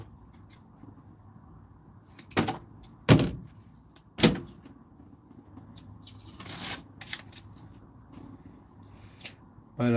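Sound deadener mat being sliced for a 1984 Buick Regal, with several sharp, separate cutting and tearing sounds close by and quiet rustling between them.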